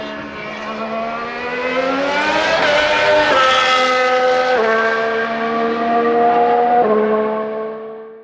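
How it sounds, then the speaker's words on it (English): A 2022 Aston Martin AMR22 Formula One car screams past at Silverstone, its high-revving engine note rising and then falling in pitch through several gear shifts, loud and close with no talk. "Aston Martin delighted the fans by taking their AMR 22 for a spin around Silverstone"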